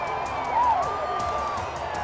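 Crowd cheering at an NAIA World Series college baseball game after a leadoff home run, a broad roar with whoops, heard under a commentator's voice.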